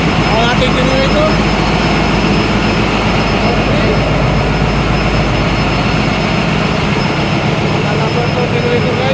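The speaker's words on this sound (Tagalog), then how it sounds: "Generator guys, generator number 1. Ayan guys, ada Himsen guys, Himsen." A Himsen marine diesel generator, generator number 1, runs in a ship's engine room. It makes a loud, dense, continuous roar with a steady low hum that does not let up at any point.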